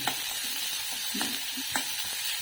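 Finely chopped onion being stirred and sautéed in a pan after garlic, a soft continuous sizzle with a few scraping stirs of a spoon, close and fairly quiet.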